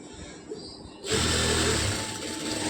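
A sewing machine starts about a second in, stitching a seam on a full frock gown with a close, steady mechanical whir that runs continuously to the end.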